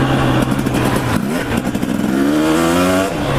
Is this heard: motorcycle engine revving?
yes